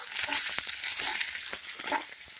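Garlic and chillies frying in oil for garlic chutney, a close crackling sizzle with soft pops and stirring scrapes, steady throughout.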